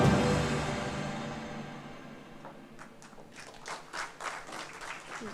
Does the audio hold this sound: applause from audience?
yes